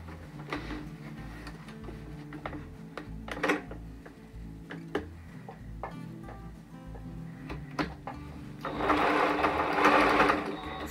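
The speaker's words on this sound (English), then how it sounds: "We're gonna start by sewing all the way around" A sewing machine stitches fabric in short, evenly ticking runs with brief pauses, close and fairly quiet, ending in a louder, steadier whirring run of stitches.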